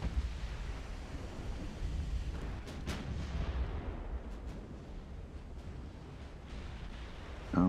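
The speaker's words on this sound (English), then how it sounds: "Oh, we can fire the 14-inch at that angle." Heavy 14-inch naval gun salvos firing in the naval warship game Ultimate Admiral: Dreadnoughts, dense low booming rumble with a few sharp reports around the third second, continuous and loud, no talking.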